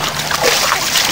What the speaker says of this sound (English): Natalie, start pumping water out of here.